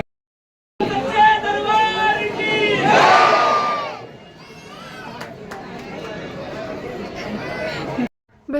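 A dense crowd of pilgrims in Haridwar fills the space with continuous loud chatter and shouting voices, swelling to a roar in the middle before settling into steady babble and cutting off abruptly.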